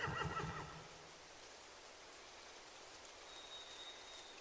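A brief horse whinny in a video game rises at the start, fairly faint, then fades into a steady hiss like falling rain.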